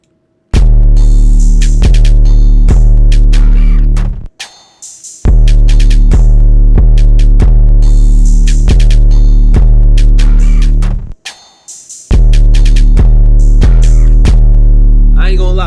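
Hip-hop type beat drums play together in loud, punchy repeating loops with heavy booming low end and sharp transients, stopping briefly twice between sections.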